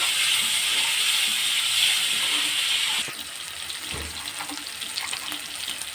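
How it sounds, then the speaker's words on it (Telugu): Curry leaves frying in hot oil for a fish curry (chepala pulusu), a loud, dense sizzling hiss for about three seconds that then settles into a softer crackle with scattered pops. "కరివేపాకు అంటే ఇలా ఫ్రై చేసుకోవాలి"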